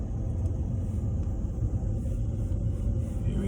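A water utility truck driving on a snowy road on Hilton Head Island, heard as a loud, close, continuous low engine and tire rumble with no talking.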